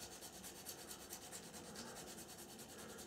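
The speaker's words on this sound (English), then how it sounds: "I'm using a skinny sander, quite a rough one, initially to" A rough skinny sander rubs back and forth over the glued seam line on a plastic model aircraft nacelle, giving a close, steady, gritty scraping with a faint repeating rhythm and no talking.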